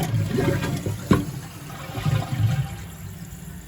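A toilet flushes after its fill valve has been replaced, a close gurgling rush of water that tapers into quieter trickling and refilling over a few seconds, with no talk.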